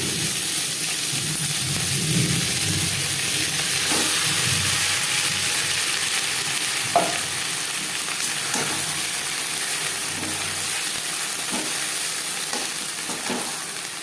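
Ghatkol leaf paste frying in a pan with nigella seeds and chili, making a continuous close sizzle and steamy hiss with occasional soft knocks from stirring, no voices.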